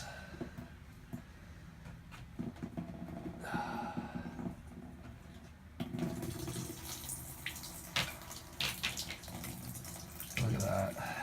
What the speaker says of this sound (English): Look at it just pouring out